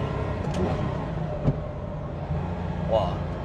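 A 1967 Porsche 911 L's engine hums steadily from inside the car at speed, a low continuous drone sitting beneath someone talking throughout.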